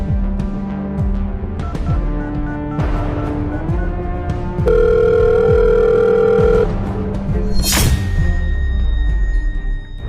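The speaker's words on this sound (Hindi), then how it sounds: "आपके पति का फोन तो बंद आ रहा है" A phone dials a switched-off number: an electronic tone, then a steady beep and a bright chime over a low, murmuring background, with a sharp electronic burst near the end and no voices.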